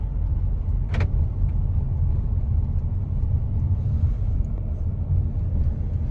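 Car rolls into a parking area at a hill viewpoint near Wai and Mahabaleshwar, a steady loud low engine and road rumble throughout with a brief click near the start.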